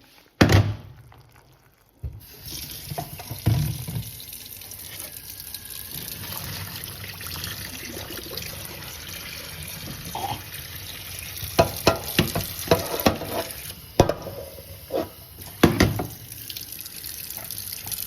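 Hot water drained from boiled broccoli into a kitchen sink, a steady loud splashing rush after a quiet start, broken by several sharp clunks of the pot and strainer toward the end.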